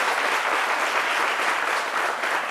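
Audience applause in a studio during a French midday TV show, a dense, steady wash of many hands clapping for the full length, loud and close, with no voices over it.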